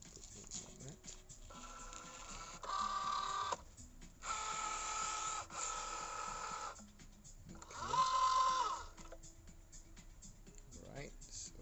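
Cricut Joy machine cutting vinyl, quiet whirring motor bursts in several distinct runs separated by short pauses, heard close with a person talking around them.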